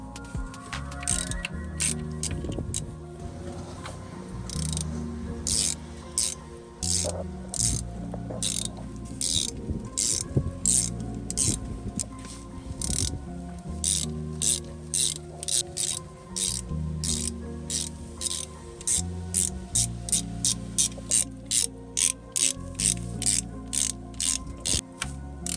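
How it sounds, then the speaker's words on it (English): A ratchet works the sump pan bolts off a Toyota Venza transmission, its close, sharp clicking run in repeated bursts that grow faster and denser toward the end, over a low background hum. "we could plug it back up and unbolt the 19 bolts to the sump pan"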